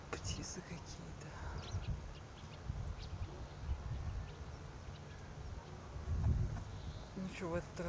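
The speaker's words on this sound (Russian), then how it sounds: "Птицы какие-то." Spring birds chirp faintly outdoors on a rural plot in Kyrgyzstan, with scattered short calls and a brief twittering phrase near the end over a steady low rumble of wind and background noise.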